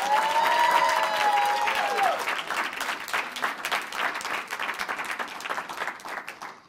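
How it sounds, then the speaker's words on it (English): A scholarship event audience breaks into loud, sustained applause, with a bright whistle rising over the clapping at the start before the crowd noise carries on and gradually thins. "roaring round of applause for Google."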